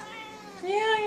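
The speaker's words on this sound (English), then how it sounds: "And that is my cat, Mona." A pet cat named Mona gives a short, rising meow close by, mixed with a brief bit of a person speaking.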